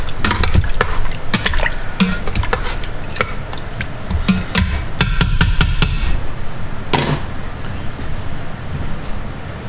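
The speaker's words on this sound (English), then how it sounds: "I'm going to stir this around just a little bit." A spoon stirs chicken broth in an Instant Pot, with rapid knocks and clinks against the metal pot over a steady wash of sloshing liquid, loud and close, easing to a softer liquid hiss in the final seconds.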